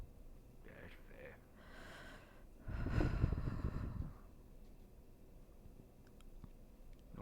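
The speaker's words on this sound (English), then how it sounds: "Normally she snores a bit more, though." A sleeping person snorts and breathes heavily in disturbed sleep, with a few soft nasal snuffles followed by one louder, rough snort lasting about a second, close and fairly quiet.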